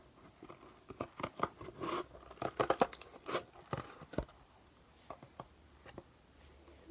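Scissors cutting out the fold-down part of a cardboard craft piece, a series of close snips and crinkly crunches in irregular bursts, fairly quiet, no talking.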